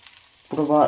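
Oil hits a dosa on a hot pan and sizzles loudly, the frying crackle starting abruptly about halfway through and holding steady to the end after a quiet start.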